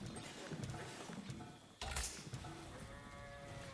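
Sheep bleating in the Age of Empires IV video game, heard as a short bleat at about two seconds over a continuous bed of game ambience and effects.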